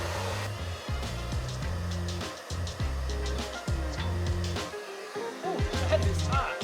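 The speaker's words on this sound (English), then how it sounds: "We're gonna turn on our blow dryer and then just start working the edges here" A blow dryer runs with a steady airy whir, broken by shifting low hums and pauses as it is moved around the edges of an old skateboard's grip tape to loosen the glue.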